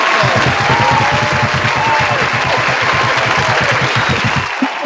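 Loud, dense applause from a large audience at a Women's History Month community event, steady and sustained with cheering voices mixed in, dropping away at the very end.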